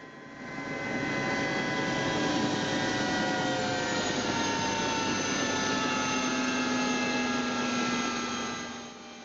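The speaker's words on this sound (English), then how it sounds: "The chopper makes some kind of pretty noises during this process." A helicopter engine cools down after landing on a ride in Mesa, Arizona, producing a steady whining drone with layered sustained tones that fade in, hold evenly and taper off at the end, heard close with no talking.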